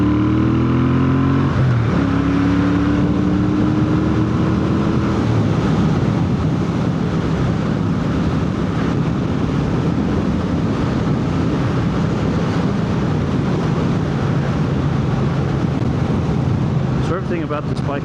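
Stock motorcycle cruising at about 70 mph in fifth gear near 3,500 RPM on a highway, a steady loud engine drone with heavy wind rush throughout and a voice talking over it.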